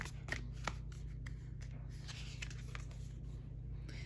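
Tarot cards are shuffled by hand in quick, soft riffling bursts and flicks, close and quiet against a low background hum, with no voices.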